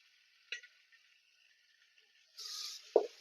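Prawns drop into sizzling masala in a pan while cooking prawn biryani, a steady frying hiss building suddenly, with a soft thud as the prawns land, close and fairly quiet.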